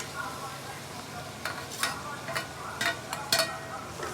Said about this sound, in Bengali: তেলটা গরম হোক, দিয়ে দিচ্ছি পেঁয়াজ বাটা, আদা বাটা, রসুন বাটা, জিরা বাটা